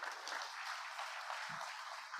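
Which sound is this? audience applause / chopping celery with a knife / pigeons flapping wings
audience applause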